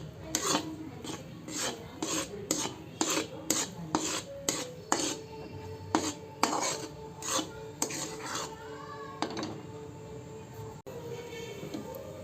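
A spoon rasps and scrapes around a pan as a cashew sweet mixture thickens into a dough, repeated close scraping strokes in a loose, steady rhythm, each stroke a short gritty burst with brief pauses between.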